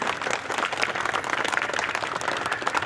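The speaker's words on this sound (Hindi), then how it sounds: "सभी लोग जो है तालियों से स्वागत करते रहेंगे" A crowd at a public gathering claps continuously to welcome a minister, dense, even applause throughout with no pauses.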